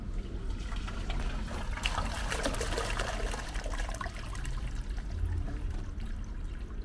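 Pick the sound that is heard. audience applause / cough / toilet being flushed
toilet being flushed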